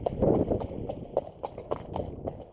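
A horse walks home at an unhurried plod, its hooves clip-clopping in a steady, close rhythm over a low rumbling background.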